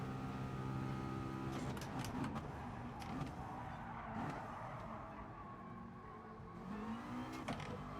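A race car in GT Sport brakes late into a corner: the engine drops through revs with downshift blips and brief tire squeal, fairly close and continuous, with no talk over it.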